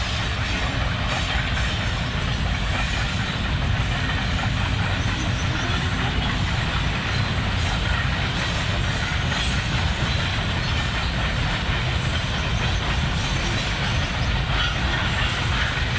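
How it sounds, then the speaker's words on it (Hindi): A children's ride train arrives in a city park, heard as a steady, loud, continuous rumbling roar with faint rattling throughout and no clear pauses. "और ट्रेन भी आ चुकी है जी, वो वो देखो जी ट्रेन आ गई है सामने वाली।"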